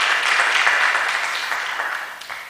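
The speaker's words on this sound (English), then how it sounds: "Please, let's clap for him until he sits." Clapping from an audience at a research festival side event, a brisk wash of applause that starts full and gradually thins and fades over a couple of seconds.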